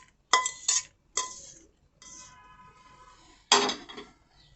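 Fried almonds are scraped from a pan onto a plate, sharp metallic clinks and scrapes of a spoon against cookware in several short bursts, close and clear.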